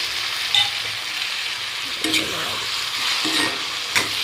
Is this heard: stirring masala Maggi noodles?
yes